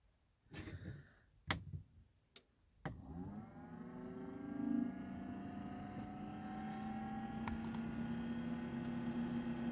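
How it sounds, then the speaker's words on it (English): Diesel heater fan in an Elddis Autoquest 270 motorhome spinning up after a few clicks and knocks, then settling into a steady, fairly quiet whirring hum that builds slightly over time. "Well, the fan's going."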